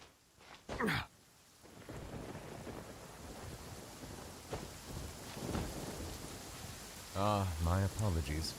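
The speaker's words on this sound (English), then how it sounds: "This heavy rain must be quite an inconvenience for you." Heavy rain in the video game Genshin Impact, a steady hiss of rainfall with distant thunder rumbles, while a character voice speaks over it near the end.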